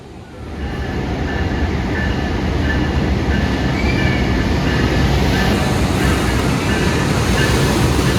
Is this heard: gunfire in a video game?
no